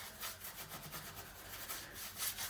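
A Victorian cast iron fireplace is brushed down to remove dust, giving close, repeated scratchy rubbing strokes in an uneven rhythm, with no voices.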